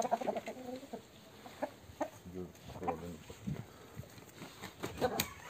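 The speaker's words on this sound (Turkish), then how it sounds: "Böyle bir horozumuz arkadaşlar." Chickens clucking in short, irregular bursts near at hand, with a rooster among them and faint talk mixed in; birds from Adana.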